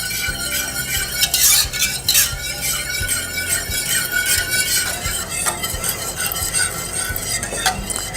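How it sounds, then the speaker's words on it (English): Milk and sugar mixture stirred in a pot on the heat, with repeated scraping and clinking of a spoon against the metal over a low simmering hiss, busy and close, no talking. "We will mix until this whole mixture almost comes to a boil."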